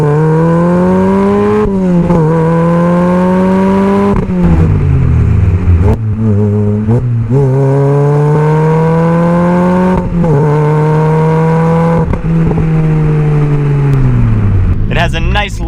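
Supercharged Lotus Elise engine revving up through the gears with a low rumble, loud and close, rising harmonic pitch sweeps broken by brief dips at each shift.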